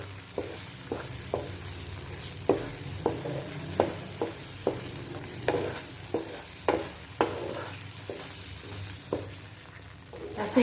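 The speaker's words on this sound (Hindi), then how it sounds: "ऐसे हिलाकर इसी तरह से इसको हिलाते रहें, नीचे चिपक ना पाए।" Semolina roasts in ghee for suji halwa while a spoon stirs and scrapes the pan in regular, sharp strokes about every half second. A soft sizzle runs quietly underneath the knocks, and no one speaks.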